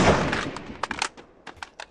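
Rapid gunfire from the video game Free Fire, with sharp separate shots that start as a dense burst and then thin out into scattered single cracks, heard clearly with no talking.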